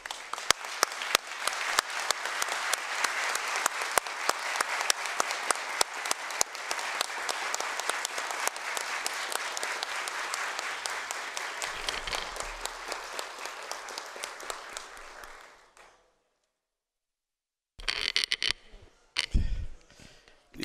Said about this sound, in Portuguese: Gostaria de pedir uma salva de palmas em pé de todos vocês